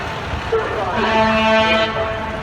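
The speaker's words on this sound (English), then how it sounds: "I hear something blowing some major air horn." A loud, sustained fire truck air horn blares for about a second amid rumbling traffic and background noise as FDNY responds to a fourth-alarm high-rise fire on West 59th Street.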